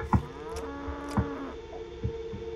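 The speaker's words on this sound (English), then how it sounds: "Stay, you fucking cow." Cow mooing in the video game Goat Simulator, a few short low moos spaced irregularly over a quiet hum, close and fairly clear with no talk.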